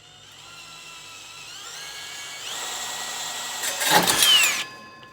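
A power drill whirs steadily, its pitch rising in steps as it speeds up, then a louder burst of grinding as the bit bites in.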